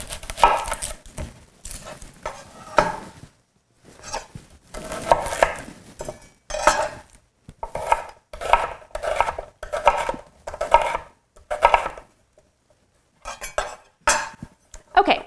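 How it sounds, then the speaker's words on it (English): A knife chops an onion close up, with rapid clusters of sharp cuts separated by brief pauses and no speech. "So I'm just going to cut my onion here."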